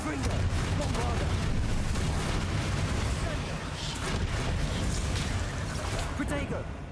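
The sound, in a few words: Bombarda spell explosions in Hogwarts Legacy video game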